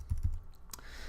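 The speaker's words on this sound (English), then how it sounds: "I can start typing text in there or whatever." A few soft, quick clicks of typing on a computer keyboard, close and faint, with a slightly sharper tap near the end and no talking.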